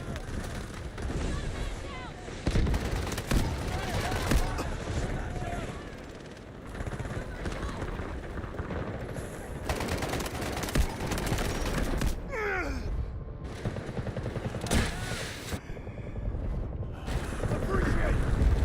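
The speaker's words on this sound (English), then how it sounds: "Artillery barrage incoming." Gunfire and an artillery barrage in the Delta Force video game, with dense bursts of automatic fire and heavy blasts packed close together and loud throughout, plus a whistling streak partway through.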